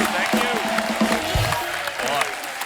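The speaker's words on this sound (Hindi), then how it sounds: "एक बार हमारे मेहमानों के लिए जोरदार तालियां" Studio audience applause for guests on a Hindi comedy talk show, a steady wash of clapping running under speech from the stage throughout.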